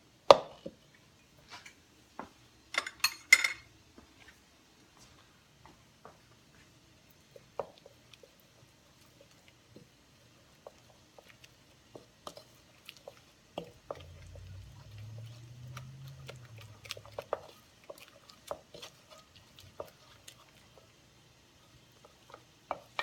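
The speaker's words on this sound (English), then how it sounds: "And I'm just going to stir all that" Beaten eggs, an extra yolk and pepper stirred in a bowl, heard as soft, sparse clicks and scrapes of a utensil against the bowl, close and faint, with a brief low hum partway through.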